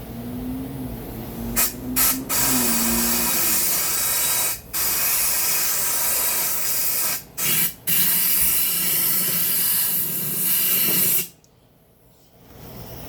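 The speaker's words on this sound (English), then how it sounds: "we're going to blow this one out with air" Compressed air blasting through a Briggs and Stratton 8.50 carburetor from a Snapper lawn mower, loud close hissing bursts held for several seconds with short breaks, ending abruptly into quiet.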